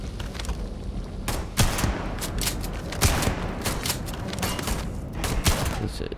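Rapid gunfire and heavy shotgun blasts ring out in a Starfield firefight against Patrick Hull's gang, with repeated sharp bangs and bursts over a dense, continuous battle din.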